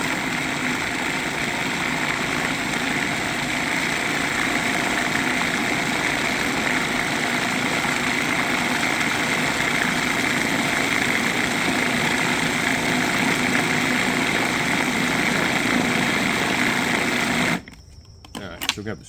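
A food processor purees gyro meat with spices in a steady, loud motor whir that holds for most of the run, strained by an overloaded bowl, before cutting off and leaving a few faint knocks.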